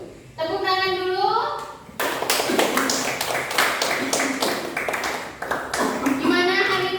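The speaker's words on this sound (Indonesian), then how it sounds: "Tepuk tangan dulu." Children clapping their hands together in a classroom, sharp rhythmic claps in a bright burst between short stretches of a voice.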